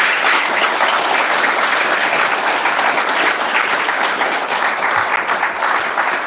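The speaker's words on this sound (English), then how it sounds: "Give him a massive round of applause again." An indoor audience claps at a community event, a dense, loud and continuous round of applause that fills the room with no pauses.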